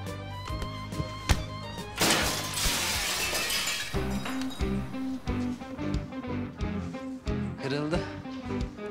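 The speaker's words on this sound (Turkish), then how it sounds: "Kim kırdı camı?" A glass window breaking, with a sudden loud crash and a burst of shattering that scatters into tinkling debris, heard among music and other scene sounds.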